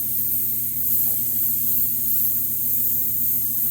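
Paint spraying onto a quarter-scale custom Thor sculpture, a steady, even airbrush-like hiss running without a break at close range.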